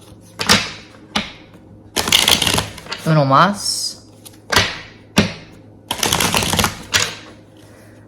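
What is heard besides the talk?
shuffling tarot cards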